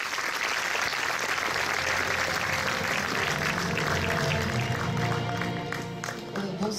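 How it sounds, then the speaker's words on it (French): Audience applause at the opening night of a school film festival, a dense, steady wash of clapping filling the whole stretch, fading slightly near the end. "Merci d'applaudir Nadine Swick,"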